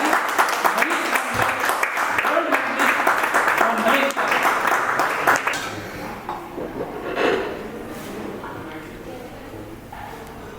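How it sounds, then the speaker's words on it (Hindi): Hearty applause from an audience at an NGO event honouring a taekwondo champion, dense clapping for about five seconds that then thins and fades, leaving scattered claps and room noise with some talk. "जोरदार ताली के साथ"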